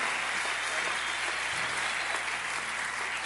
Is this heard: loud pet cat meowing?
no